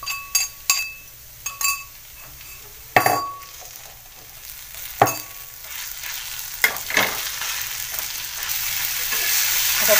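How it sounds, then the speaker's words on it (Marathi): Prawns fry in a pan as green chili thecha is stirred in, giving a steady sizzle punctuated by sharp clinks and scrapes of a spoon against the pan, with the frying growing louder toward the end. "आता मी त्याच्यात जो आपण ठेचा बनवलेला आहे तो ठेचा घालणार आहे मी।"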